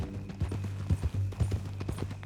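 In Red Dead Redemption 2, a horse walks along, its hooves sounding a steady, close clip-clop rhythm of hollow thuds that carries on throughout with no voice over it.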